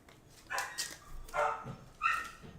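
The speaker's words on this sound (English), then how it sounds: "Sorry for the dog barking." Three separate bursts of barking from a dog nearby, loud and sharp, spaced about a second apart with no talk, at a Pokémon card box-breaking session.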